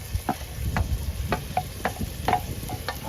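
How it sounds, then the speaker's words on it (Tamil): Ginger garlic paste sizzles in a pan for a squid gravy, with a spoon scraping and clinking against the metal several times in an irregular rhythm over a steady frying hiss. "இஞ்சி பூடி போட்டு இப்போ ரெண்டு கிண்டு கிண்டிக்கிறோம்"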